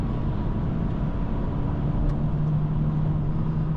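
Steady engine drone inside a 2024 Honda Civic Sport under way, a smooth continuous hum with road noise and no break as the transmission steps through simulated gears.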